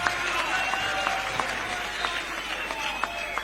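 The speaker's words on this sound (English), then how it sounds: "Give him an applause of hand, Mr. President." Audience applause at a UPND party assembly in Zambia, where President Hakainde Hichilema attends: a continuous wash of crowd clapping and cheering at steady moderate level, with scattered sharper claps and voices mixed into the din.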